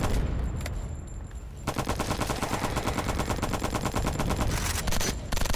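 Rapid automatic gunfire from a video game weapon, a dense, loud burst of evenly spaced shots after a brief quieter lead-in, with no talking over it.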